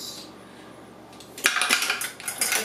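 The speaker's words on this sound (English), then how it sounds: "in our blender, we're gonna throw some ice cubes in there first." Ice cubes tumble into a blender jar for an orange, mango and banana smoothie, a burst of hard clattering knocks after a quiet start, several rattling impacts close up.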